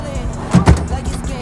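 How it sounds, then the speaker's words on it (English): Plastic drawers on a shelf organizer slide open in two quick scraping pulls close by, with soft thuds as they stop and a low room hum around them. "Any go-to items, we can just slide these open."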